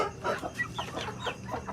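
Several Brazil-breed chickens cluck and murmur continuously, a close, busy flock chattering with overlapping calls.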